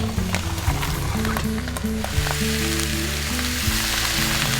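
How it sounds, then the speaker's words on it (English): Vegetables stir-frying in oil for a spicy chicken stew, a loud steady sizzle with scraping and clatter from a pan and no talk. "Now we're stir frying the vegetables a little bit."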